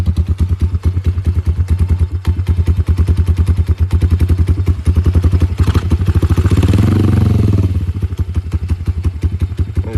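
A GPX Moto FSE140 small motorcycle engine idles close by with a loud, rapid, steady thumping beat that briefly rises as the idle is turned up, then settles back.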